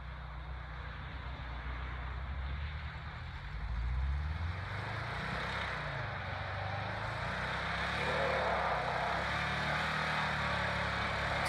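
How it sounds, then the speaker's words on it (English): A Volkswagen Vanagon Syncro in two-wheel drive strains up a frozen ramp with its wheels spinning, producing a continuous broad engine roar with rising and falling revs and a hissing, slipping wash over it. "You can see the Syncro is struggling to get up in two-wheel drive."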